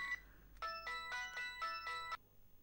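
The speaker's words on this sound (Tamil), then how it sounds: "ரிங் போய்கிட்டே இருக்கு, நோ ரெஸ்பான்ஸ்." Telephone ringback tone sounding in regular electronic bursts, a short one followed by several repeated rings going unanswered, clear and alone against a quiet room.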